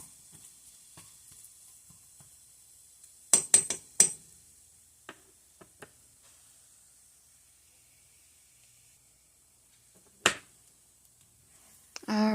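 A spatula taps and chops scrambled egg in a pan, making a quick cluster of light clicks followed by scattered single taps over a faint, steady sizzle.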